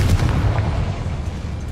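The Confringo blasting spell from Hogwarts Legacy detonates with a deep, booming explosion, a heavy low rumble that hits hard at the start and then rolls off as it fades.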